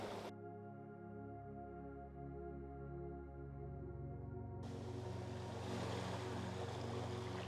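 Ocean waves break on a beach in Victoria, British Columbia, a steady rushing wash that swells in partway through and continues to the end over a sustained, droning musical tone.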